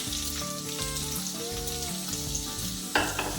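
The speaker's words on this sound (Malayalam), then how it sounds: "ഇതിൻ്റെ അകത്തേക്ക് നമ്മൾ അരിഞ്ഞു വെച്ചിട്ടുള്ള ഉരുളക്കിഴങ്ങ് ഇട്ട് കൊടുക്കാം" Chopped potatoes frying in hot coconut oil in a pan, a steady close sizzle with stirring clinks, and a brief louder hiss near the end.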